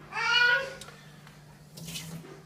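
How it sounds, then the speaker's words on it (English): Hot water is poured out of a coffee frothing device in a burst of splashing that fades after about a second, followed by quieter trickling. "Pour your hot water out"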